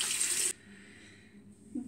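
Running tap water splashes steadily into a sink while a face is rinsed, loud for half a second before the flow drops to a quieter trickle with a small splash near the end.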